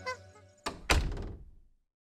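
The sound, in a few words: door opening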